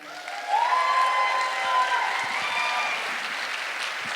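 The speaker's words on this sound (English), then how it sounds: "So please, big round of applause for Amanda." Audience applause and cheering for a speaker at an Ignite Denver talk, a steady crowd of clapping that swells early and holds loud throughout, with a sustained tone running underneath.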